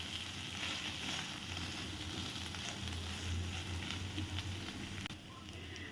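Shredded boiled chicken frying with garlic in a hot pan, a steady loud sizzle throughout with faint stirring and no voices.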